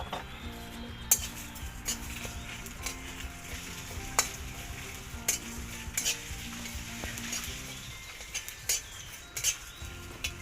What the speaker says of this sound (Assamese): মই ইয়াত এতিয়া শুকান মছলাখিনি ভাজি ল'ম